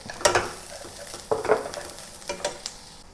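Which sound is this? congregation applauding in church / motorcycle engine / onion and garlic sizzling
onion and garlic sizzling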